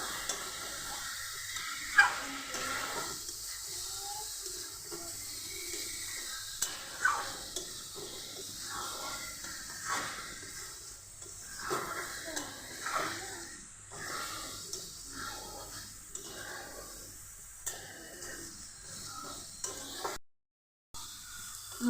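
Spices frying in a pan for egg biryani, ground black pepper mixed in, give a steady soft sizzle broken by repeated scraping and stirring strokes, close and fairly quiet, with no talking.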